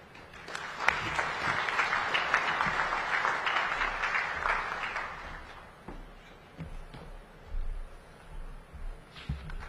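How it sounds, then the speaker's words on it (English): Sustained applause from an audience at an intergovernmental heads-of-state summit, a dense wash of clapping that swells early and then thins out toward the end. "Another round of applause, ladies and gentlemen"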